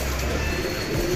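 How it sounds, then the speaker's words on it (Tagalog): A racing pigeon coos at the loft, soft low repeated coos close by over steady background noise, with no one speaking. "May dumating tayong ibon."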